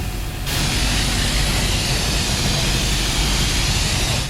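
Water spray blasting over a motorbike in a workshop during a service wash, a loud, dense continuous hiss that starts abruptly after a brief quieter moment and holds steady.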